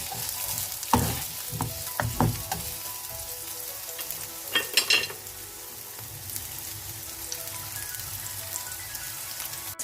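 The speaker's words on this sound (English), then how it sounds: "Now I am going to fry it till its color become brown." Mutton pieces frying in a pot over a burner until browned, a steady close sizzle with a few louder stirring clatters and scrapes near the start and middle, no voices.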